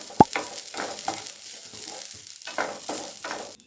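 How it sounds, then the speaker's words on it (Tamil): Coconut lightly roasting in a pan for mustard chutney, with a sharp utensil knock at the start followed by soft, intermittent stirring scrapes over a faint low sizzle. "தேங்காயும் சேர்த்து லைட்டாக வறுத்துக்கணும்."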